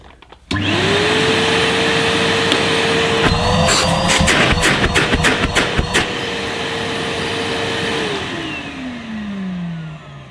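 A steady mechanical whine from a Henry vacuum cleaner with a rising pitch that holds, then winds down near the end, with brief clattering bursts in the middle; loud and close.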